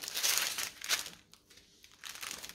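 Packaging crinkling and rustling while items are unpacked, close crackly bursts coming in several separate handfuls with brief quieter gaps between them.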